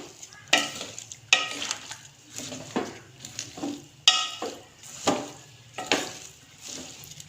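Bitter gourd and a kilo of onions frying together in oil, loud close sizzling broken by repeated stirring scrapes and spoon clanks against the pan every second or so.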